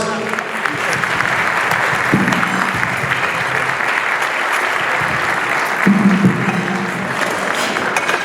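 An audience at a heritage association gala breaks into sustained applause, a dense, even wash of clapping from a full room that holds steady throughout, with a voice briefly audible underneath.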